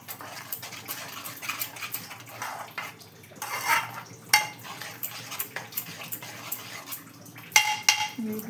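Mustard oil being stirred into an egg gravy in a pan for a Bengali mustard egg dish, with light scraping and clinks of a utensil against the pan and a soft background hum.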